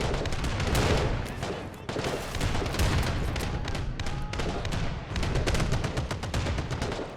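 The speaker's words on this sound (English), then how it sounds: ".50 caliber machine gun here in the center trench, working on the defenders" Dense .50 caliber machine gun fire in a war video game, with rapid continuous bursts mixed with heavier explosions and booms, loud and sustained with only brief pauses.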